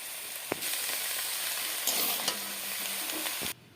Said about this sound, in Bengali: এবার লাউ শাকগুলো এর মধ্যে দিয়ে দিচ্ছি।